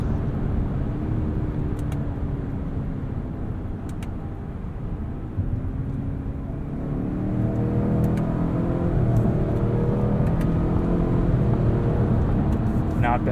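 The engine of a 2022 Lincoln Navigator Black Label with 440 horsepower accelerates with a low, rising drone heard from inside the cabin, building steadily as it pulls, with a voice talking over it at times.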